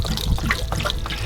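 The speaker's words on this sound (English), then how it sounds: "We'll drain all that water out of the hot water tank." Water drains from an RV travel trailer's hot water tank, a close, continuous trickling and splashing flow with small gurgles, steady and fairly loud.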